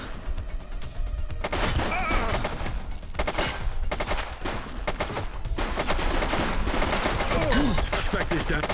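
Rapid gunfire from the police game The Precinct, dense bursts of automatic and repeated shots crackling almost without pause, loud and close, with a brief quieter gap near the start and another around the middle.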